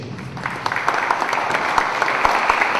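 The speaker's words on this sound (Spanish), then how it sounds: "Recibimos con un fuerte aplauso al doctor Fernando Vicente Núñez Pérez" An audience at a law association academic event applauds to welcome a speaker, steady mid-sized applause with individual claps standing out, moderately close throughout.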